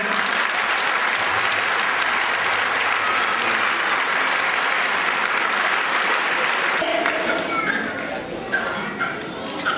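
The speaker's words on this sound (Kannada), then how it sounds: "ಅವ್ರಿಗೆ ಒಂದು ಚಪ್ಪಾಳೆ ಅಭಿನಂದನೆ ಕೊಡೋಣ." A large audience at a stage event applauds continuously, dense loud clapping holding steady for most of the stretch before thinning near the end, with a few voices mixed in underneath.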